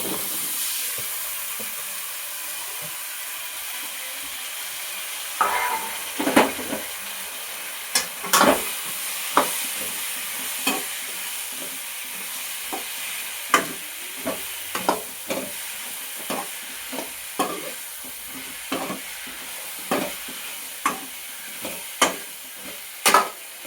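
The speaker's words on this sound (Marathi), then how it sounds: "आता हे मिक्स आपण चिरलेले तुकडे टाकूया" Chopped eggplant and other ingredients are stirred into sautéed masala in a hot pan for a Bhogi vegetable dish, with a continuous frying sizzle broken by a series of sharp spoon scrapes and clacks at a loose, irregular rhythm.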